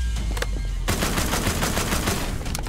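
Gunfire in The Walking Dead: Destinies comes as rapid, dense bursts of shots, loud and continuous across the clip, with no voices.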